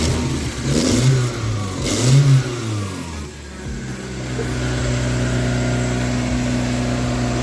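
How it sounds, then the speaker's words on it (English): Mazda Miata four-cylinder engine with a makeshift cold air intake revs twice with a rising, throaty induction roar, then drops back to a steady, rumbling idle, heard close by. "I just hear it's sucking in air."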